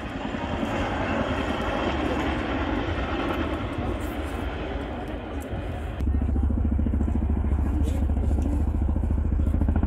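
A Boeing Chinook HC6 helicopter flies a display at the Royal International Air Tattoo, its engine and rotor roar loud and constant, deepening to a heavier throbbing beat partway through, under a commentator's voice.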